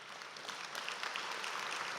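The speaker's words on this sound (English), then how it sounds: "let's give a round of applause to the awardees" A round of applause for awardees at a Hall of Fame awards brunch, steady crowd clapping heard from a distance, soft and even for the whole stretch.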